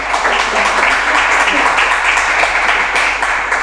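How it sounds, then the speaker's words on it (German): Applause from an audience during a talk-show interview with comics artist Ulli Lust: steady, loud, dense clapping throughout with no pauses. "Applaus"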